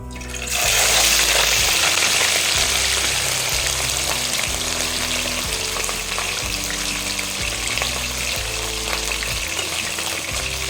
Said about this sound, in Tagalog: Guys, ngayon po ay prituhin na natin yung isda.